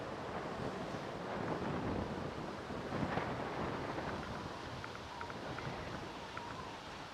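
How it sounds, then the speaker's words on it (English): Strong gusts buffet an outdoor microphone at Manchester Airport, a steady roaring rush that swells and eases over several seconds, with no talking. "It's as blowy as I don't know what"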